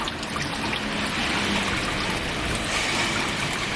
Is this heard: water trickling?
yes